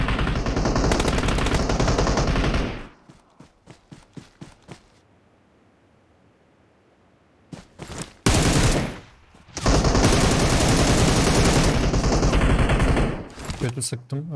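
Loud bursts of automatic machine gun fire in a first-person shooter game, with a quiet pause in the middle before heavy firing resumes; players talk over it.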